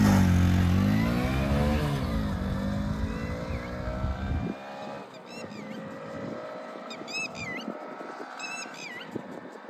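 A Hero Splendor and a Hope Oxo motorcycle in a drag race: a loud engine drone shifts pitch as it accelerates, then fades into a distant hum, with faint whistle-like chirps in the background.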